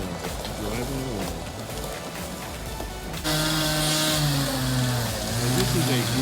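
A truck engine revs and rumbles as it pulls away after hauling a load of storm-damage debris, growing louder partway through, with a person talking over it.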